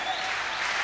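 Dense crowd applause fills a live concert in Córdoba, a loud, continuous wash of many hands clapping together for just under a second.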